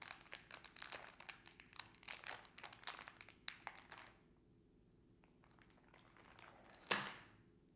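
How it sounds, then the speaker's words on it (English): Cellophane packaging of a coin proof set crinkles and rustles as it is cut open, a run of close, sharp crackles that pauses, then ends with a single louder crunch. "let's cut it out of the cello and see what we find"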